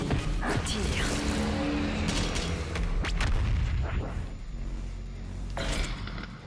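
BFG 10000 space cannon firing in Doom Eternal, a heavy booming blast with crashing impacts and mechanical rumble filling the whole stretch, loud and dense, with game effects layered throughout.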